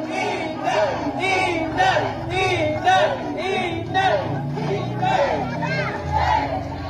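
A large outdoor crowd at a Davao City campaign rally cheers and chants in a steady, rhythmic roar, with shouting voices rising and falling continuously throughout.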